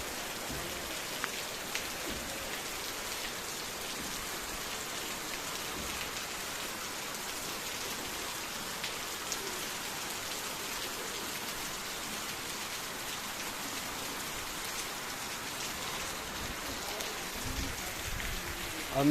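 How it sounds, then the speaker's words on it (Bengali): Steady rain falling outdoors, heard from a rooftop, a dense even hiss of drops on surfaces continuing throughout with no pauses. "আর বাইরের দিকে কীরকম বৃষ্টি পড়ছে দেখো"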